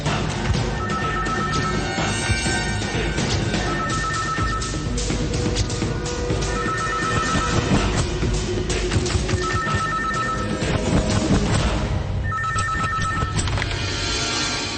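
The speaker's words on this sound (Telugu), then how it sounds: "సార్, మా ధైర్యం నుండి ఫోన్ వచ్చింది." A telephone rings in a Telugu film scene, sounding in repeated bursts of trilling rings every few seconds, partly buried under a dense, loud background of music and noise.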